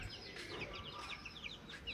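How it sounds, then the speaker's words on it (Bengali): Native country chickens kept on a rooftop cluck in soft, quick bursts, a short close flurry of calls with no talking. "তো মুরগিগুলো এখানে আছে"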